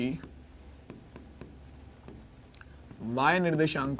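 Chalk or marker strokes on a classroom board during a Hindi coordinate geometry lesson: a run of short, scratchy taps and strokes at a steady pace, with a teacher's voice coming in near the end.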